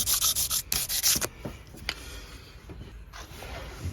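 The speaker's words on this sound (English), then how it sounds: "We'll just do a light scraping on it." A fretboard on a 24-fret Tokai Korean LG 50Q guitar is lightly scraped; several loud, fast rasping strokes open the sequence, followed by quieter, scattered rubbing and small taps.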